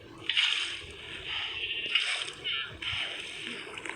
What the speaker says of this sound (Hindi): तो आया पानी।